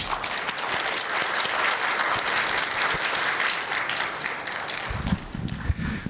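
A lecture audience at a chemistry society keynote gives sustained, dense applause from many hands, steady and fairly loud throughout, with a few heavier claps near the end.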